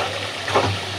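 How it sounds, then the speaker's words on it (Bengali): Country chicken frying and being stirred in a pan during a slow dry braise with cumin, a steady close sizzle with a brief stirring scrape partway through. "তাই এই যে আমার মুরগি একদম ভাজা ভাজা করে সুন্দর করে কষাইছি"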